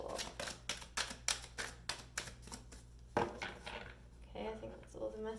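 Tarot cards are shuffled by hand in a series of crisp, rapid riffles and taps, close and moderately quiet, with a short pause before a few softer shuffles.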